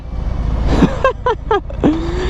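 Harley-Davidson FXDR motorcycle engine revving in several short throttle blips, each falling in pitch, then a longer rising rev that holds, loud and close.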